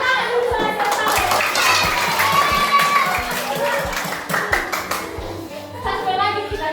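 Children clapping along in a tepuk clapping game led by a teacher in a classroom, rhythmic bursts of many small hands mixed with chanting young voices, loud and close.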